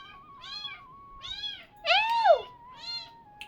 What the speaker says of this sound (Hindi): ऐसे ही म्याऊं म्याऊं करती रहती है कि खाना दे दो